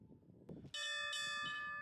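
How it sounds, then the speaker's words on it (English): A bell at Grinpa Sylvania Park on Mount Fuji rings out with a loud, bright metallic strike, followed by a second strike that rings on and fades, after some faint outdoor background noise. "It had a bell"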